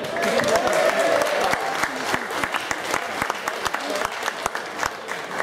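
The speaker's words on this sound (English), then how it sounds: "And please keep me round of applause going," Sustained audience applause at a World Superbike meet-and-greet session, steady dense clapping from a crowd with a faint murmur of voices underneath, continuing evenly throughout.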